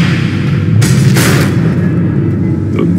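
Missiles blow up in Batman: The Enemy Within: two heavy booming blasts close together near the start, with a low rumble underneath that keeps rolling afterward and no talking.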